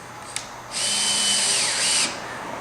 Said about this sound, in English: So, just going to finish screwing these down.